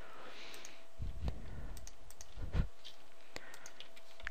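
Fingers type a password on a computer keyboard in a quick irregular run of sharp, close key clicks, some strokes louder than others, with no voices over them.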